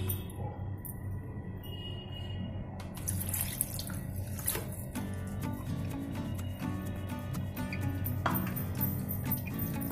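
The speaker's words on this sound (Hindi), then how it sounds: "ऐसे ही हमें 6 से 7 बार आलू को धुलना है।" Grated potatoes are rinsed in a sink for namkeen mixture, with running water from a tap splashing and trickling steadily, along with light clinks and drips close by and no voices.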